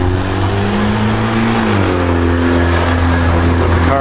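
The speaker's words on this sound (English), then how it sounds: "There's a car." A car outside a house under renovation, its engine loud and close with a steady, rising drone, the pitch climbing as it passes.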